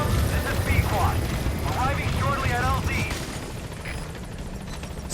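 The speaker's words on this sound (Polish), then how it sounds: "Lecimy zatem w tym momencie naszym helikopterkiem." A helicopter in the video game Metal Gear Solid V: The Phantom Pain rumbles steadily through the whole stretch, with gunfire-like bursts and a voice talking over it.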